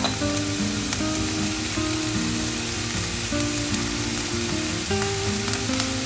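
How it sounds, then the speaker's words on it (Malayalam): Onion and garlic sautéing in a pan give a constant close sizzle and crackle throughout, with no talking and faint tonal music in the background. "ഇത്രയും കൂടെ ഒന്ന് നല്ലോണം ഒന്ന് വഴറ്റാം"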